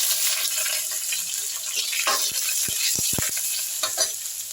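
Garlic goes into a sizzling tempering of spices in a pan for masoor dal, a steady close frying hiss with a few sharp stirring clicks and scrapes toward the end, no talking.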